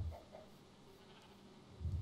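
Sheep in Minecraft give short, faint bleats at the start and again at the end. The rest is quiet background, and no voices are heard.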